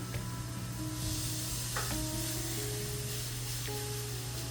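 Cajun-spiced pork tenderloin sizzles steadily in hot oil in a pan, a continuous close frying hiss with faint clinks and no talk.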